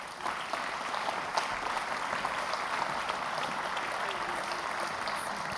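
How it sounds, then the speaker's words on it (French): Sustained audience applause at an innovation awards ceremony, dense and steady throughout, loud and close with no talking over it. "Saluez avec moi, par des applaudissements nourris"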